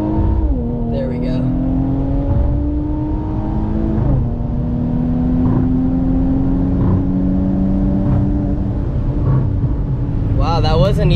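Infiniti Q50 3.0t accelerating hard during a race against another Q50, engine drone rising in pitch through gear changes, loud and close from inside the car, with people talking over it.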